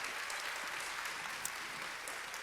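Church congregation applauding during a Sunday worship service, a steady wash of clapping that stays even and fairly faint throughout, with no voices over it.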